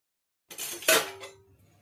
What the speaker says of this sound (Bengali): এবার দিয়ে দেবো ধুয়ে রাখা চাল।